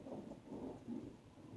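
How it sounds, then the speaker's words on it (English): Deep thunder rolls during a severe thunderstorm, a low sustained rumble with swelling pulses, faint and distant, with no voices over it. "Right with the thunder."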